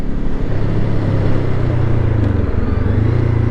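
A Honda SCL500 motorcycle engine runs steadily while riding, a loud, smooth low drone with wind noise over it and no talking.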